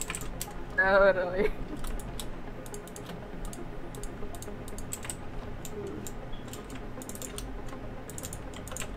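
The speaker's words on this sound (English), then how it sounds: "These clicks that you hear, it's me just totally auto-clicking." Rapid clicking from auto-clicking during a Minecraft-style minigame on a Mineteria server, a steady dense patter of clicks running throughout with a brief stretch of talk near the start.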